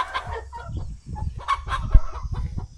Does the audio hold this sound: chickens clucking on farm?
yes